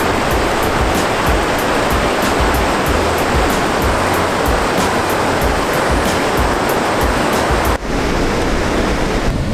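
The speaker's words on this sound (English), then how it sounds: "I just need some tranquility from these ocean waves." Ocean surf rolling onto the beach at Long Beach, Washington, a loud, continuous roaring wash of breaking waves that fills the scene steadily with no voices.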